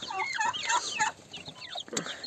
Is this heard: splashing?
no